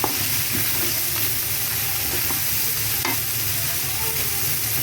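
Carrots stir-fried for pancit, a steady close sizzle with a continuous frying hiss and faint scraping of a utensil throughout, with no voices.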